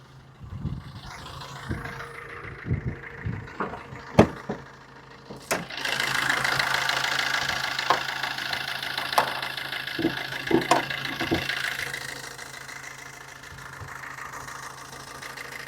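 A low-budget used car's engine idles with a steady mid-range hum that grows louder partway through, with scattered clicks and knocks up close.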